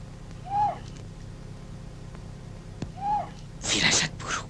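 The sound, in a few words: bird calling at night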